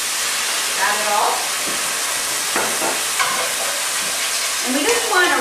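Leftover wine poured into a hot pan after browning veal scallopini crackles and sizzles in a broad steady hiss, with brief stirring scrapes and a voice speaking near the end.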